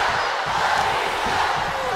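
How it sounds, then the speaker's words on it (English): Crowd noise from the wrestling video game WWE 2K23 during a steel cage match: a dense, steady roar of an arena audience, loud and unbroken across the short span. "crowd is going crazy, chanting Batista"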